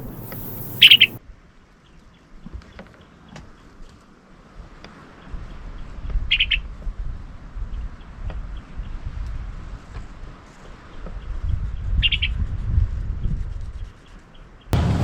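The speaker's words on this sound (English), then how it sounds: "we fell asleep with the sound of the birds" Birds at De Hoop Nature Reserve chirp in three short, sharp bursts spaced several seconds apart over a low outdoor rumble, fairly distant with quiet gaps between calls.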